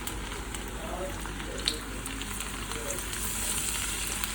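Chicken tempura strips frying in hot oil in a kadai, a steady dense sizzle that holds throughout and grows slightly louder toward the end.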